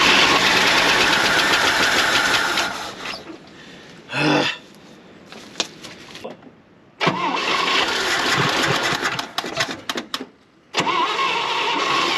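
A 1973 International 1210 tractor, abandoned for years, cranks on full choke with loud engine bursts, brief sputtering catches and pauses between attempts, heard close without talk.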